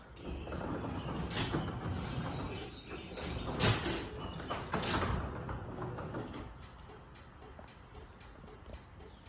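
A Chamberlain LW5000EV garage door opener drives the door along its track, a continuous rumbling mechanical grind with rattling clanks that eases off and quiets toward the end.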